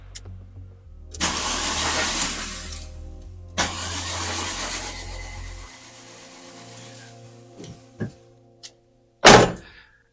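A Volkswagen Golf 3 engine converted to run on E85 ethanol cranks with a loud whirring starter, catches, and settles, followed by a few sharp clunks and a final burst of mechanical noise.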